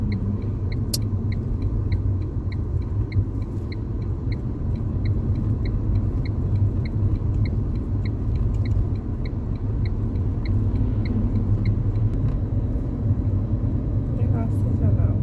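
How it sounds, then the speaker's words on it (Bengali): A family car cruises along a highway in Rajasthan at moderate speed, with a steady low engine and road rumble throughout, a faint regular ticking like an indicator, and a person talking over the drone. "স্লো করে দিয়েছি গাড়ি, এখন 46-এ চালাচ্ছি"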